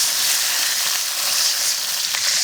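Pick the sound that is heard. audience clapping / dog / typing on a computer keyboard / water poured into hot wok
water poured into hot wok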